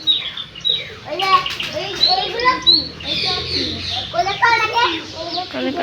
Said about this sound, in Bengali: এগুলো পায়রা প্রজাতি, পায়রা প্রজাতি।